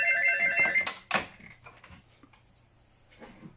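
A telephone rings in a few tonal bursts before a brief clatter as the answering machine is switched on, followed by quiet room noise.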